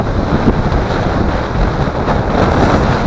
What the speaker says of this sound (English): I don't even know if you can hear me, it's blowing so loud.